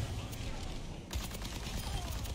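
Gunfire crackles continuously during an Overwatch match, a dense stream of rapid shots heard under a player talking, growing sharper and brighter partway through.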